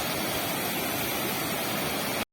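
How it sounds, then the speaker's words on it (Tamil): Bikkanapalli Falls waterfall: a loud, steady rush of falling water, a dense unbroken roar that continues evenly and then cuts off abruptly. "மக்களே இதுதான் மக்களே பிக்கனப்பள்ளி ஃபால்ஸ்."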